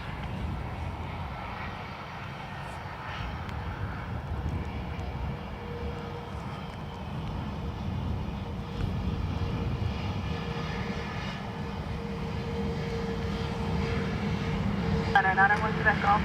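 Aircraft engines roar steadily at Dublin Airport, a broad continuous drone that swells slightly toward the end, with faint radio voices underneath.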